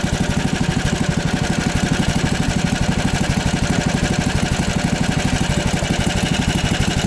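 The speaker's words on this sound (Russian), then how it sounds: "Вот идеальные обороты. Хороший звук лифана, 20-ки двигателя." A Lifan 20 hp engine runs steadily at even revs on first ice, a close, continuous rhythmic putter with no voices.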